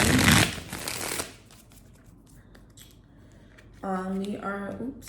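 A Seeds of Shakti Oracle card deck is shuffled in a dense, papery riffling burst for just over a second, followed by near silence and then a short stretch of a voice.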